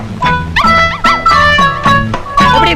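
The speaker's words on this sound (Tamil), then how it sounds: "யோ நாய் இங்க இருக்குதுயா" A small puppy barks and yips repeatedly in short, close, high-pitched bursts with whimpering tones.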